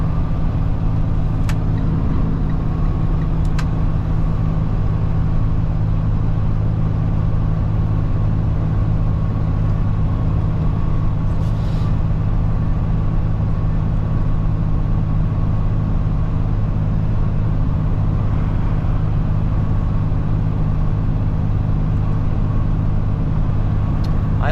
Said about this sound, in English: you heard the change gears, and of course it's an automatic Freightliner